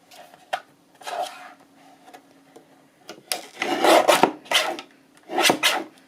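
Scissors trimming a paper file folder, a few short scraping, rasping cuts in separate bursts with quiet gaps between them, close and fairly loud.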